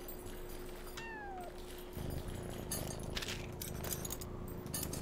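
A cat in the video game Yonder gives a single clear, falling meow near the start. Quiet ambient game sounds and a light jangling continue afterward.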